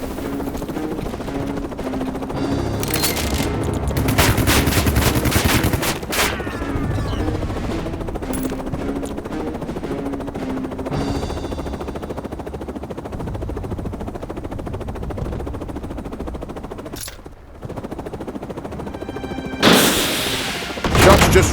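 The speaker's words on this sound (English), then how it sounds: "Shots just ricocheted from that armor." Gunfire in the video game Headquarters Cold War breaks out in rapid bursts and volleys, with heavy loud stretches, a helicopter-like drone underneath, and quieter gaps between the barrages.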